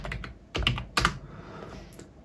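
Keys clatter on the keyboard of a homemade 4-bit TTL computer in a quick burst of close, crisp clicks with a few louder strokes, and no voice over them.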